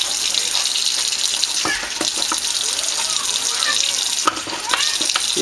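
Hot water running steadily from a kitchen tap, a continuous hiss-like splash for several seconds, with a few faint clinks and knocks of utensils near the sink.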